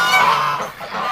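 A duck gives a short, loud honking call, close by, in a single brief burst with no talking.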